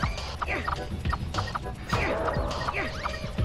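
Clucking chickens from the Rayman video game cackle in quick, repeated bursts with squawks and small crashes over game sounds, moderately loud and busy for a few seconds.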